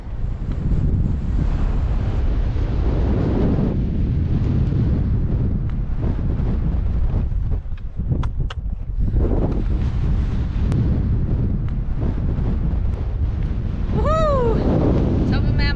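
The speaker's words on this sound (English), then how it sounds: "It's a little windy on the summit." Strong wind buffeting the microphone on the summit of Mount Bryan along the Heysen Trail, a loud, continuous low roar with gusty swells and one short dip, while a faint high animal call rises near the end.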